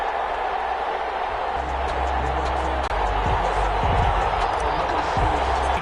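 Roaring video game stadium crowd in an NFL game on PS4, a steady loud wash of cheering and noise with low thumps underneath, running throughout.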